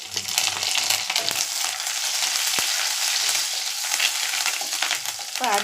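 Curry leaves and pandan leaves frying in hot oil, with a dense crackling sizzle throughout, a sharp pop near the middle and some stirring, and no voices.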